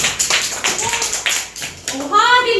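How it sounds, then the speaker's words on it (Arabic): Kindergarten children clap for a classmate, a run of sharp, quick claps near the start, then a teacher and children talking with the clapping fading under their voices. "صفقوا الرقاوي"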